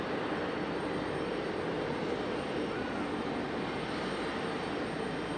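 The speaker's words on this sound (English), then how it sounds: "There you go, a little JetBlue and our 777. They're going to race up here to the gate." A JetBlue jet and a Boeing 777 taxiing at Raleigh-Durham airport, a steady distant jet engine whine and rumble with faint talk underneath.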